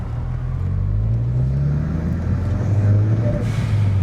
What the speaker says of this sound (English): You get all those fun turbo noises.